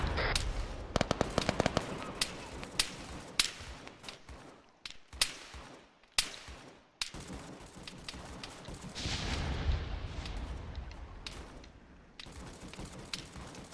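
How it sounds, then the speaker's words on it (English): Arma 3 Vietnam-era defensive battle with mortar rounds landing, heard as scattered sharp cracks and booms over a constant low rumble of gunfire, some near and some distant, no speech. "Mortars."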